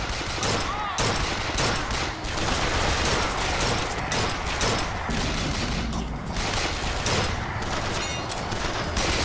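Sustained gunfire from a BioShock Infinite battle against police alongside the Vox, dense overlapping bursts and volleys filling the whole stretch, loud and continuous with faint game voices underneath.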